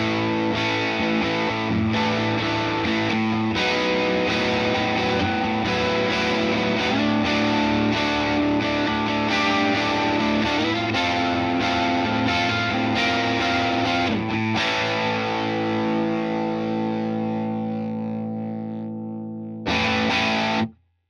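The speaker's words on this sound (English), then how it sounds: "And now here's what the Dual Cabs preset sounds like." Heavily distorted electric guitar through a Fender Tone Master Pro dual-cab preset, thick driven chords and riffs ringing out steadily for around twenty seconds, then a short final strum before a sudden stop.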